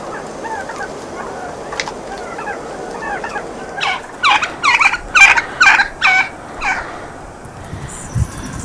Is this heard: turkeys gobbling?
yes